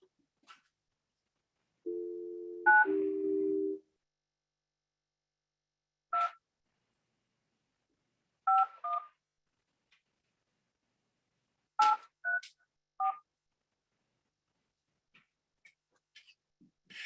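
Telephone keypad tones from a phone call placed during a Zoom court appearance: a short dial-tone burst followed by several separate DTMF beeps at irregular intervals, clear against near silence.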